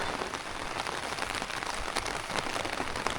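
Steady rain patters and drips on surfaces at a Sunday morning market in Thailand, a dense, continuous hiss of close drops with no talk.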